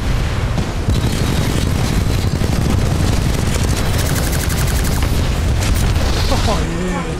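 Rockets firing in Titanfall 2 during a Titan brawl with Monarch: a dense, loud, nonstop barrage of booming blasts and rattling gunfire with no letup.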